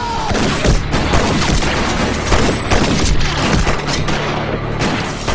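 Sustained burst of gunfire in a tense armed standoff with shouted commands, loud and dense with sharp overlapping cracks and booms filling the whole stretch.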